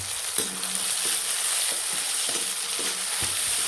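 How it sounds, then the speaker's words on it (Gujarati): Brinjal olo being stirred with green onion in a pan: a loud, steady sizzle with repeated low spoon scrapes and knocks about every half second, no voices. "પછી એને મિત્રો સારી રીતે મિક્સ કરવાનું છે જોરદાર."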